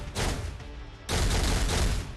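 Rapid gunfire from the Marvel Future Fight mobile game comes as two dense, loud bursts of shots split by a brief dip.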